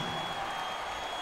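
Basketball arena crowd at a sports event cheering and roaring after a dunk, a steady distant wash of noise with no single standout voice.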